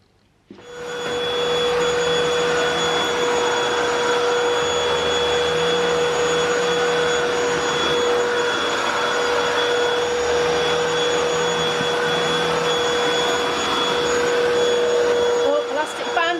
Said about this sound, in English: when you're all geared up ready to start a hoovering job